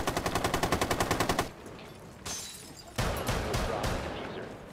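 Rapid automatic gunfire in the video game Rainbow Six Siege, a loud, evenly spaced burst of about a dozen shots, followed by quieter crashes, thuds and scattered impacts in the background.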